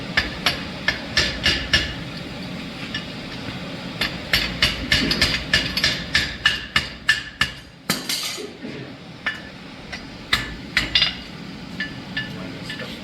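Hammer blows on hot chain links at a forge weld ring out in quick, sharp metallic strikes, bursts of close, loud clanging with brief pauses between volleys and a steady low background rumble.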